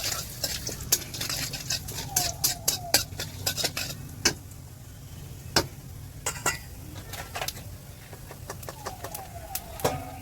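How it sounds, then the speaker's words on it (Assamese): Cumin seeds being stirred in a little oil in a wok for chicken curry, with frequent sharp metal spatula taps and scrapes over a faint sizzle, no talking. "অলপমান জিৰাটো লাৰি দিছোঁ"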